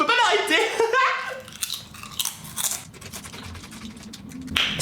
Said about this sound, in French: Ça croustille bien. On a envie toujours d'en manger plus des chips.